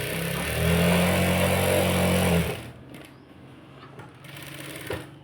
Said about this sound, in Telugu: ఇలా మనం స్టిచ్చింగ్ చేసుకోవాలి